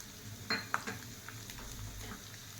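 Lentils, mustard seeds, and dried and green chillies fry in oil for tamarind pulihora, with a soft steady sizzle and a few clinks and scrapes of stirring at the start.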